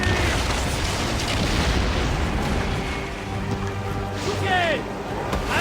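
Ship cannons firing during a naval battle in Assassin's Creed Origins, heavy booming blasts over constant sea and rowing noise, with voices shouting throughout.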